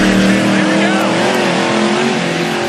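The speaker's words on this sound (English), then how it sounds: "The supercharged Hemi going to make some glorious noise." A supercharged Hemi drag car roars at full throttle in a burnout box, a loud, dense engine howl with shifting pitch and tire noise running the whole time.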